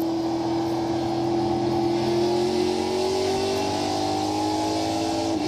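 Onboard a 550-horsepower NASCAR Pinty's stock car racing at Canadian Tire Motorsport Park, the engine drones loud and steady with a rising, sustained pitch as the throttle is held, with no voices over it.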